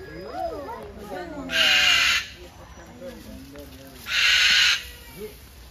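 A cockatoo at Zoobic Safari in Subic gives two loud, harsh screeches a few seconds apart, while people talk close by throughout.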